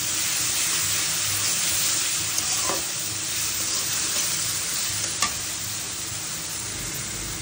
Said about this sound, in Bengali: এই রসুন বাটাটা আমি তেলের সাথে খুব ভালো মতন ভেজে নিব কিছুক্ষণ।